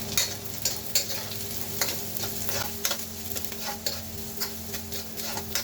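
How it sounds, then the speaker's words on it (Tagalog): Garlic and onion sautéing in a little cooking oil, a steady close sizzle with scattered stirring clicks and scrapes from a utensil against the pan throughout. "maglagay tayo ng konting mantika para simulan na natin yung ating pagigisa ng bawang at sibuyas"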